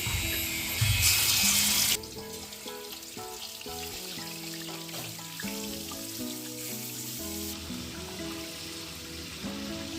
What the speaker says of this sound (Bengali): এবার চিকেনটা ভেজে নেবো আমি